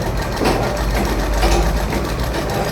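A sewing machine stitching in a tailoring class, a fast continuous mechanical whir and rattle, loud and close, steady throughout without audible talk.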